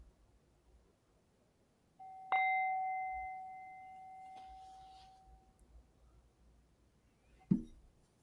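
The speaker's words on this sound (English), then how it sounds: "opening to receive the sound of the bell." A meditation bell struck once with a clear sustained ring that slowly fades over several seconds in a quiet room, followed later by a soft knock.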